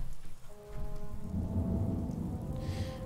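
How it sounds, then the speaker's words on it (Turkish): Rain pours in the video game Fallout 4 under a deep rolling thunder rumble that swells and holds, a continuous close storm bed with no talk. "Zaten yağmur yağıyor."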